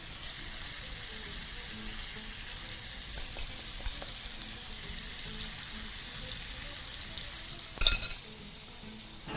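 Chettinad-style fish frying in oil in a pan, giving a steady, close sizzle throughout with a brief louder clatter or splash near the end.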